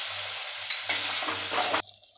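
Loud, steady sizzling of tomato puree hitting a hot frying pan, growing briefly more intense before cutting off abruptly near the end.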